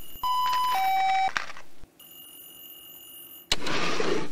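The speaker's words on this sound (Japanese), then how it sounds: "スマホも一応も、電話が鳴ってんだよな。" A telephone ringing in the horror video game 8人目のフラグ: steady electronic tones with bright harmonics sound for about a second and a half, pause, return as a thinner continuous tone, then give way to a loud hissing burst.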